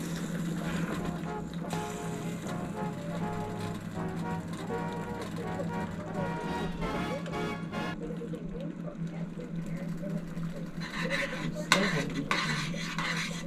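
Dumpling batter spooned into a pan for chicken and German dumplings, with steady scraping and clinking of a metal spoon against a bowl and pan and a light simmer beneath, while people talk throughout.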